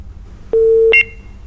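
A phone line beeps during a call-in radio show as the caller's call drops: one long steady tone followed by two short higher beeps, clear and alone over faint line hiss.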